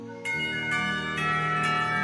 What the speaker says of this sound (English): The ringing of the bell snaps us both to reality